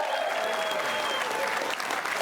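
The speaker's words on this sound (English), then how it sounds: "Give it up for Charlie. Give him a round of applause." Steady, dense applause fills a television studio as the audience claps for Charlie, a continuous even roar of hands throughout.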